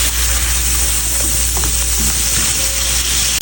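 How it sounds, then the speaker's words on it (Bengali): Prawns sautéing with salt and spices in a pan for a shrimp and Malabar spinach dish, a loud, steady sizzle throughout with faint stirring clinks. "ভালো করে কষিয়ে নেব এক থেকে দেড় মিনিট"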